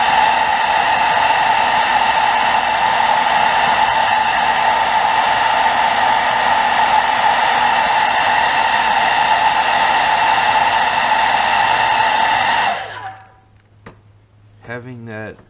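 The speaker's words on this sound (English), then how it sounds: "Having that blow dryer hanging right there is such a lifesaver and time saver." A hair blow dryer heat-setting fresh paint on a custom bluegill crankbait lure, a loud steady whooshing roar held for about twelve seconds before switching off into near silence.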